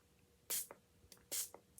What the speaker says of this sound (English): You want to spray your paper.